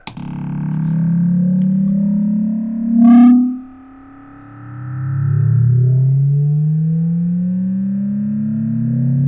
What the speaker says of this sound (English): we're deliberately playing with the feedback loop, we're driving the feedback loop pretty hard.